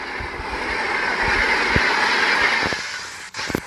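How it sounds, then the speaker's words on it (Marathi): A train runs along the track in the Indian Train Driving 3D video game, a continuous rolling rumble with faint rhythmic wheel clicks that cuts off abruptly near the end. "भाई ट्रॅक साऊंड ऐका तुम्ही."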